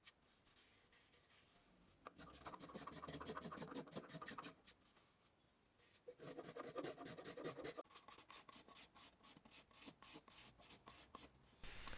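Hand tools work a wooden chair: a spokeshave, then a card scraper, rasping and scraping across the wood in long, close strokes. A rapid series of short scrapes follows.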